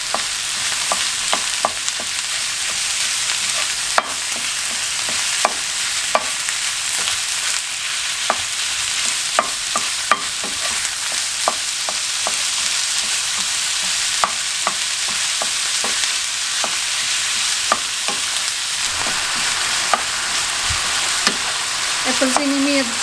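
Chopped onion and minced meat fry together in a pan for Albanian stuffed peppers, a continuous loud sizzle broken by frequent sharp scrapes and taps of a stirring utensil, close and without speech.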